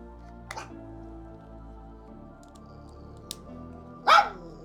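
A puppy barks twice indoors, a faint yelp followed a few seconds later by a louder, closer bark, over a quiet steady background.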